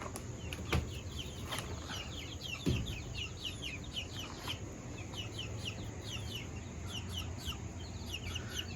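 Many chicks peep in a steady high chorus in a brooder, with occasional clucks from larger chickens in a partitioned side and a couple of soft knocks, heard close up and without talk.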